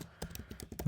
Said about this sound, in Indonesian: setelah selesai, kita akan mengetik lagi Java